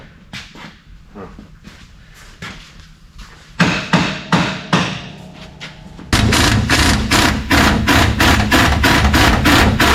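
A hammer strikes repeatedly in a steady rhythm, the blows growing louder and sharper partway through, close and continuous.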